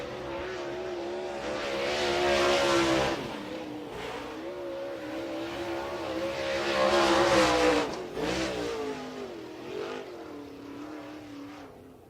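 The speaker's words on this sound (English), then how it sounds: "Pro Power Racing engine under the hood of a Schwartz race car." A late model race car fitted with a Pro Power Racing engine runs laps at Cedar County Raceway, its engine roaring loudly and continuously, rising and falling in pitch as it accelerates and passes, with no talk over it.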